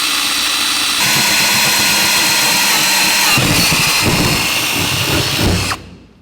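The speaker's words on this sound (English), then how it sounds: "We'll drill it" A power drill whines loudly and steadily as it bores through metal on a 1949 Chevrolet gasser, the pitch shifting under load before it cuts off abruptly.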